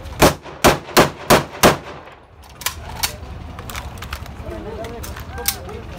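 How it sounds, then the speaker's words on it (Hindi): Test-fired gun at the Darra Adam Khel gun bazaar lets off five loud, evenly spaced shots in quick succession, followed by busy market clatter, faint clanks and distant voices. "ये भाई अभी फायर करेगा।"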